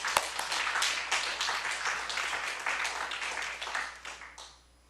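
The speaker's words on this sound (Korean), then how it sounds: "하나님께 영광의 박수 돌리겠습니다" A church congregation at a Sunday morning service breaks into dense, lively applause that holds steady for several seconds, then tapers off and stops.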